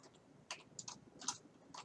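Typing on a computer keyboard while entering text in Excel, a handful of quiet, close key clicks in an uneven rhythm, faint and alone with no talking.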